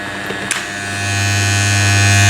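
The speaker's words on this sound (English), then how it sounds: "I've got one more thing that makes quite a bit of noise. The shaver." An electric shaver running on UPS battery backup power buzzes close by with a harsh, steady hum that grows louder and fuller after a couple of faint clicks at the start.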